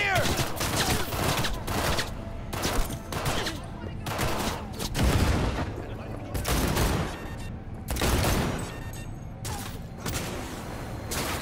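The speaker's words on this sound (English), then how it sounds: "Exchanging fire!" A Cyberpunk 2077 firefight with police, with repeated bursts of loud gunfire trading back and forth in clustered volleys across several seconds.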